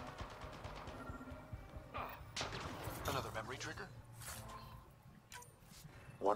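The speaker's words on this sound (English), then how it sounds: "I still hear things exploding." Explosions and gunfire in the sci-fi video game Mass Effect Andromeda, with repeated sharp blasts and crackling impacts over a busy, continuous game soundtrack, fairly faint overall.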